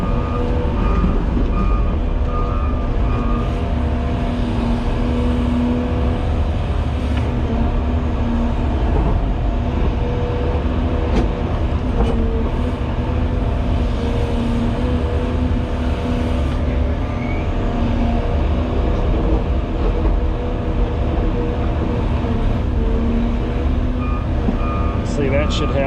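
A Volvo tracked excavator moving over gravel, with a steady engine and track rumble and a repeating reversing beep tone, heard close and continuous throughout.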